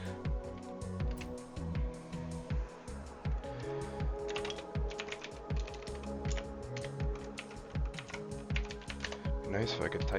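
Rapid, uneven keystrokes on a computer keyboard rattle on steadily for about ten seconds, close up, with dense clusters of clicks and brief pauses.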